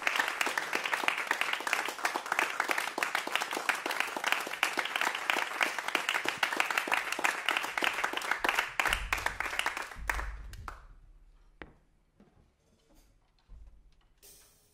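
Audience applause for a jazz trio of piano, double bass and drums: dense clapping holds steady for about nine seconds, then thins into scattered claps and fades, with a few late isolated claps near the end.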